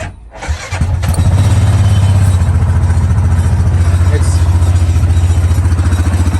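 An Axis 750 Crew 4x4 UTV engine catches and then runs loud and steady close by, with a throbbing idle and rattling from the body throughout.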